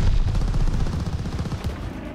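Call of Duty gunfire in an online match: dense, continuous rapid shots and bursts, loud and close, filling the whole moment without speech.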